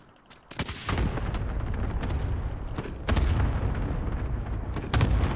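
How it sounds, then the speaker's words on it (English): A cluster strike in a video game sets off a rolling barrage of heavy booms and explosions, with bursts landing at intervals and a sustained rumble between them. "Allied cluster strike inbound."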